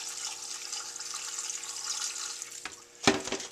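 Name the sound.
water poured into pot of dried ancho chiles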